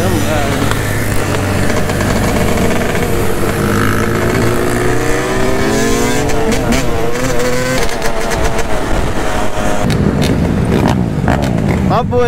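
Motorcycles on a Halloween wheelie group ride give a loud, continuous engine drone with rising and falling revs that fill the whole stretch, while people talk over the noise.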